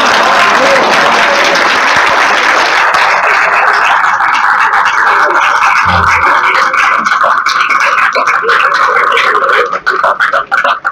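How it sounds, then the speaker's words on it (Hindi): A university auditorium audience in India claps loudly and steadily for a speaker, a dense sustained wash of applause that carries on for several seconds before thinning out at the end. "अब वाली ताली ठीक थी"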